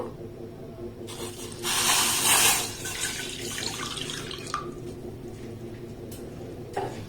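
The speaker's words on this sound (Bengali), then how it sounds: "এবার এরকম বড় কাপের মাপ করে 1 কাপ দুধ আমি দিয়ে দেব।" Milk is poured from a cup into a pan on the stove that already holds a little water, a brief splashing liquid rush that swells loudly for about a second, then fades to faint kitchen clatter.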